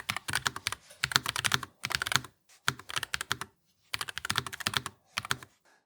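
Keys on a NuPhy Air 96 low-profile wireless mechanical keyboard with Daisy switches clatter in rapid bursts, close and crisp, with short pauses between runs of typing.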